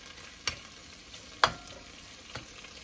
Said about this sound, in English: It's frying down with the masala, the sauce.